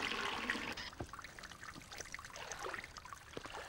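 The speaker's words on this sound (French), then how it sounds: "Le robinet est cassé." Water trickles and splashes from a broken tap, a fainter dribbling with irregular drips and small spatters, a brighter rush at the start before settling into uneven splashes.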